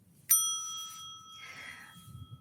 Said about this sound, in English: Cue the bell, cue the timer.